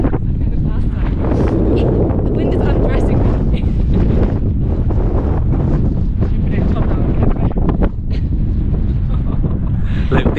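Strong desert wind storm blasting against the microphone in a loud, constant roar with heavy buffeting, while people talk faintly underneath.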